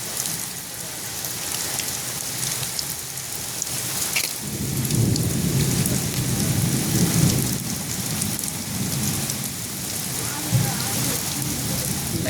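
A heavy rainstorm pours steadily onto surfaces while deep rumbles of thunder roll through the middle of the recording, swelling and easing beneath the constant hiss of falling rain.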